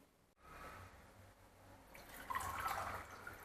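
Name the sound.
pouring spiced mint buttermilk into a glass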